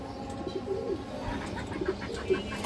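A silver-coloured pigeon in a seller's loft gives two short, soft bursts of low cooing against a steady background hum, fairly faint and without speech.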